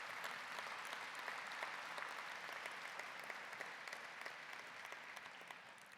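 A crowd at a college convocation ceremony applauds in sustained, dense clapping that stays even for several seconds and eases slightly toward the end.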